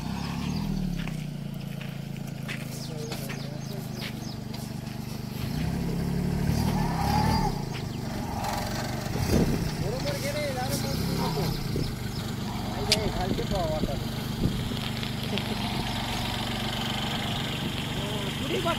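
A Kubota mini tractor with a rotavator runs steadily in a field, its engine a continuous mid-distance drone with mild rises in revs, while people talk over it.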